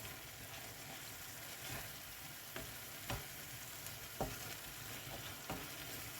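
Beef (about 200 g) and onions fry in a pan, a soft continuous sizzle with occasional light clicks and scrapes of stirring, quiet and steady with no talk.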